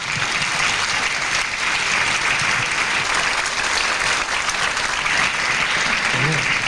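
Loud, sustained applause from an audience, a dense wash of clapping that stays steady and close for several seconds.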